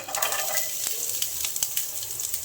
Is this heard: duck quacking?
no